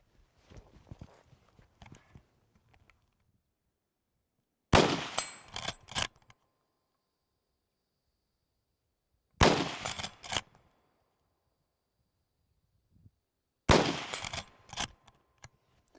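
Rifle shots from a Ruger GSR or Mossberg 464 fired at a target outdoors: three loud, sharp reports spaced several seconds apart, each with a short rattling tail, over near silence.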